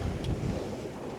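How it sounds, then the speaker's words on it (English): Strong wind at sea on a small single-handed sailing boat heading into 18-20 knot wind off Cape Clear, a brief, steady buffeting roar of wind noise with low rumbling and no voices. "now we've turned into the wind, it seems much stronger"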